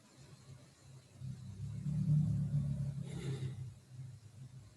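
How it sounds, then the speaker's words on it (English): Road traffic rolls past during a quiet meditative moment, a faint, distant rumble of a car that swells and fades, with a soft hiss of tyres and no voices. "The sound of traffic"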